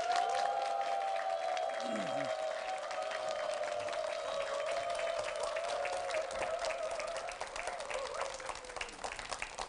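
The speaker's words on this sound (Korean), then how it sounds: "여러분 따뜻한 박수로 모셔주시기 바랍니다" A television lecture audience applauds steadily for the arriving leader of a clarinet ensemble of children with disabilities, a dense even roar of clapping lasting throughout with a sustained tone running beneath it.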